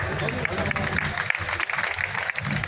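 A crowd at an election campaign rally for a candidate in Narmadapuram claps continuously in a dense, loud patter, with a voice booming over the applause.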